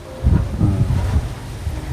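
Wind gusting outdoors at a rural home, low rumbling buffets against the microphone that swell and fade over a couple of seconds, with no voices.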